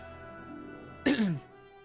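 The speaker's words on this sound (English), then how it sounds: "I'm already coughing" A single short cough, close and fairly sharp, rises out of a quiet background hum and fades within a fraction of a second.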